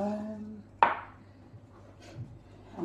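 A knife cuts garlic on a kitchen board: one sharp chop, a faint softer cut later and another chop at the very end, with quiet gaps between strokes.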